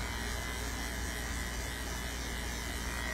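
Electric clippers fitted with a 7 blade buzz in a steady, unbroken drone while shaving matted dog fur during grooming, a close and constant motor hum filling the whole stretch.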